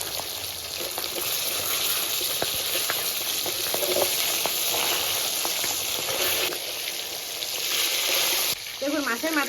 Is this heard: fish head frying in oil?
yes